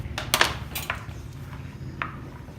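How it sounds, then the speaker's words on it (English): Utensil clinking and scraping in a pan of onions softening in butter, several sharp taps and light stirring scrapes up close, no voices. "Give that a stir."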